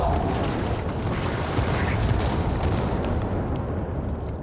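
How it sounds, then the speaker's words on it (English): Dense, continuous rumbling blasts of multiple upgraded DIY grenades in Dying Light 2 overlap one another, a sustained barrage of booming explosions with crackling debris, loud and unbroken for several seconds. "Multiple explosions."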